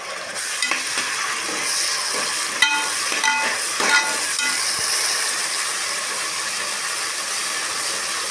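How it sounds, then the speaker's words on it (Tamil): Ginger garlic paste frying with softened onions in a pan for a mushroom biryani, a steady dense sizzle with a few clinks and scrapes of a spatula stirring, close and continuous with no voices. "வணங்கினோடனே இந்த இஞ்சி பூண்டு பேஸ்ட் போட்டுக்கலாங்க."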